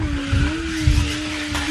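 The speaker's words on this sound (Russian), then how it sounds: "он заказал машинку на пульте управления" A remote-controlled toy car whirs steadily with a thin motor whine, with bursts of rolling noise from its wheels, close by and fairly loud, no one talking over it.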